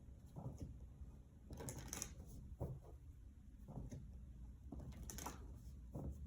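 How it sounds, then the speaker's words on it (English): Tarot cards shuffled by hand in a deck, with several bursts of riffling and flicking separated by short pauses, close and moderately loud. "I'm going to keep shuffling"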